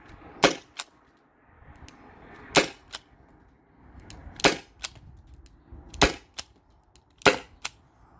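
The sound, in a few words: Byrna SD launcher shots with 12 gram CO2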